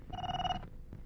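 A telephone rings in a Telugu film scene: one loud, steady electronic ring burst, then a short pause and the start of a second ring, with no one talking.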